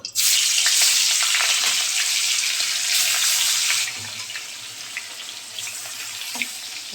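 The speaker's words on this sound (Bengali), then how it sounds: "কড়াইতে তেল দিয়ে দিয়েছি আর এবার আমি মাছগুলোকে ভাজব" Stingray pieces frying in oil in a wok, with a loud, dense sizzle for several seconds that eases to a softer, crackling fry with a few scrapes.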